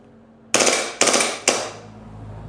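An airsoft gun fires on full auto in three quick, loud, close bursts of rapid shots, each about half a second long, separated by short pauses.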